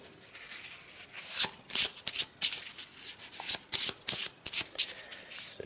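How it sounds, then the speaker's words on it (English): Cards from the Ancient Whisper deck of the Arkham Horror board game being shuffled by hand, a close run of crisp riffling bursts and soft slaps over about six seconds, with no talking. "take out the Ancient Whisper deck, give it a couple of shuffles, and the cut."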